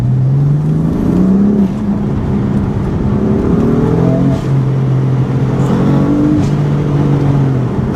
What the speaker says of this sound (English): when you're in gear and you kind of like boot it a bit, it automatically does sound a bit louder